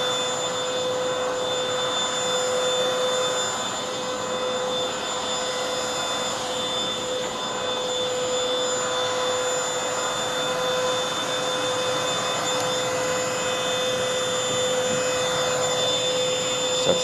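A MOOSOO XL-618A robot vacuum cleaner runs with a steady, loud whirring hum and a constant high motor whine, unbroken and with no voices.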